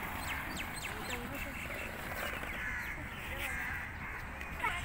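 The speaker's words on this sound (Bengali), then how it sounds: "এখানে প্রচুর শালিক পাখি রয়েছে।" Common myna birds chatter and call in a flock outdoors, bursts of squawks and whistles over background bustle, with faint voices nearby.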